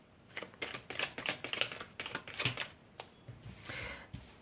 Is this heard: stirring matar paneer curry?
no